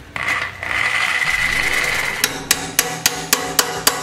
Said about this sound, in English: And then I'll be able to chisel it out and we'll chase it out with a tap.